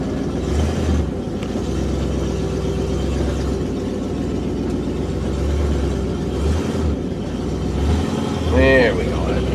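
Car driving slowly and maneuvering around a tight corner near a new shed, with a steady low engine rumble throughout and a brief louder swell near the end.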